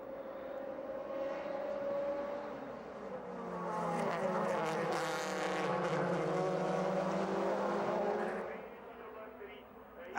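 Onboard engine of Albers' DTM race car in the 2004 season, a sustained loud drone that rises and falls through gear changes while chasing Tomczyk, with a commentator talking over it.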